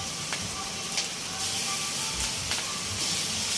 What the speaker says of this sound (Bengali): সবজিগুলোকে ভাজতে হবে।